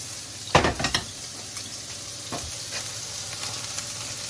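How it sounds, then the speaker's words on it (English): Vegetables stir-frying in a wok beside freshly caught bass, a steady nearby sizzle broken by a few clanking scrapes of a utensil against the metal, with no talking. "And this, the vegetables now, they're gonna fry off, yeah."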